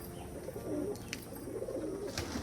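Domestic tumbler pigeons kept at home give low, soft rolling coos, a few throaty phrases close up with faint chirps in the background.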